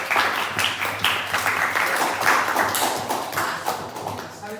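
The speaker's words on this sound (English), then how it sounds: "So let's please clap your hands." A class clapping during a school demo lesson on human impact on the atmosphere: brisk, fairly loud hand claps from a group, rippling on steadily for a few seconds.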